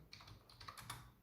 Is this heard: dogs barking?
no